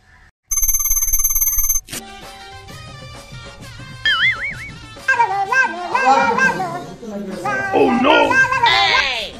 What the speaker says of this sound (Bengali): পুচুকে ফোনটা করি দাঁড়া।